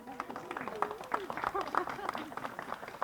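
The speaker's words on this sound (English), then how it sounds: "Y'all should clap for that." Scattered clapping from an audience at a Pittsburgh land bank housing press conference, a thin patter of hand claps mixed with voices talking over it at moderate distance.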